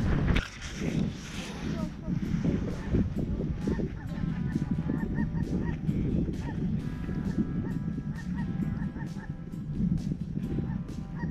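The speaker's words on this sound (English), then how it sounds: "They're cranes. Yeah, they're cranes. A lot of them." Large flock of sandhill cranes calling in South Texas, heard from a layout blind in hard wind; a dense, continuous chorus of overlapping bugling calls over steady wind noise, with voices talking now and then.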